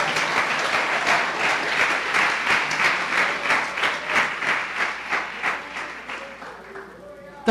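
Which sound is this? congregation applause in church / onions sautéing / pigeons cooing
congregation applause in church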